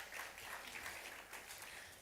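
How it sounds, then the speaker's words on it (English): An audience at a competition grand finale at Nile University, Abuja applauds steadily as the finalists come onto the stage, a dense wash of clapping from many hands. "Put your hands together. Don't stop clapping."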